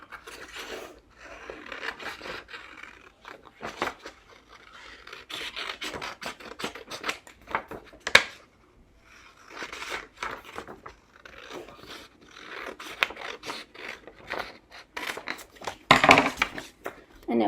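Scissors cut a flashlight-beam shape out of paper for a craft: steady, close crisp snipping and scratchy rustling of the sheet, with a few sharper clicks of the blades.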